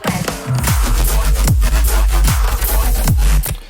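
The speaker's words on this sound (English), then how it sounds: "It's like a wobbly kind of patch." Loud, dense FM wobble bass synth patch, its low end pulsing in a steady rhythmic throb with bright noisy upper layers, playing alone with no talk.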